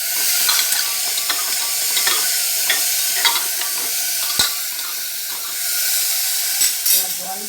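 Food seasoned with turmeric is stirred in a hot pan, a utensil scraping and tapping the metal in an uneven rhythm over a constant bright sizzle close by.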